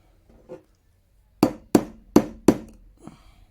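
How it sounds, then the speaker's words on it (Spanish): Four sharp metallic hammer taps, evenly spaced about half a second apart, driving a pin punch into the slide of a Beretta 84FS pistol, with a couple of faint softer taps before and after. "ahora sí ya ocupamos el sacapernos que esté más adecuado, más exacto a la medida, para no dañar el arma y para no dañar el perno"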